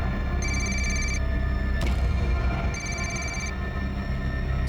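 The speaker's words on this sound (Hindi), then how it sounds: "घंटी की आवाज आ रही है अंदर से।" A telephone rings in two bursts with a pause between, heard amid a steady background hum and a sharp knock.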